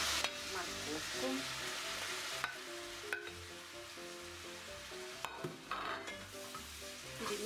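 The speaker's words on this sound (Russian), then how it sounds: "Перемешиваем и пусть тушится." Grated carrot and meat stewing in a pan for chicken pilaf, with a continuous sizzle and intermittent scraping and clinking of a utensil stirring, close and moderately loud.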